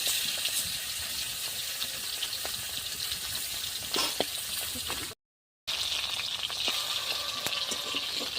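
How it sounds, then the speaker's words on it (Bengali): Hilsa fish fries in hot oil, a steady close sizzle and crackle with occasional sharper pops, broken by one brief gap of silence. "মাছটা এখন ভেজে নেব।"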